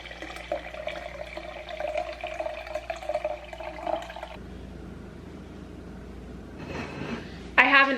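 Leftover kombucha liquid pours out of a glass jar in a steady watery gush that runs for several seconds, then quiets before a brief louder splash near the end.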